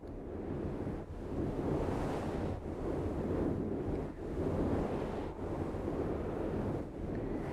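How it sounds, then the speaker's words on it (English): Ocean waves roll in and wash out in a steady rhythm, a broad rumbling surf with wind buffeting the microphone. "I hope that sounds like the ocean."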